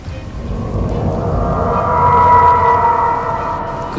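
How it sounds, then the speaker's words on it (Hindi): A loud thunderclap in a Hindi ghost story, swelling into a long, heavy rumble that fills the moment alone, with no voices. "तभी जोर से बिजली कड़की"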